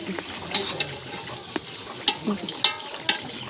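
Meat frying in a pan with spices, stirred repeatedly during home cooking: a steady low sizzle with sharp scraping and clinking strikes of the utensil against the pan at irregular intervals, fairly close.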